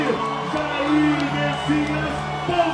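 A crowd cheers, whoops and chants in loud, drawn-out voiced shouts at a Jair Bolsonaro presidential campaign rally in São Gonçalo, with a steady dense roar underneath.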